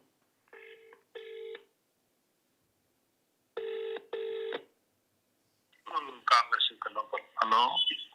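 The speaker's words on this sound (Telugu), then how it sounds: "ఒక్కసారి ఫోన్ చేద్దాం." A phone call placed live during a Telugu news broadcast: two short bursts of dial tones, a pause, then two more matching electronic tones, followed by a clear voice talking once the line connects.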